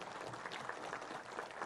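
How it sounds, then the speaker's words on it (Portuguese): A lecture audience at a state congress in São Paulo applauds, a soft, steady wash of clapping heard from a distance that lasts the whole moment without any talking. "aplausos."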